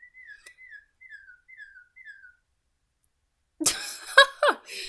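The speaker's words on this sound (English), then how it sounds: "we have a bird clock in our basement" A mechanical bird clock in a basement chirps a birdcall five times in an even rhythm, chiming the hour, followed by someone laughing nearby.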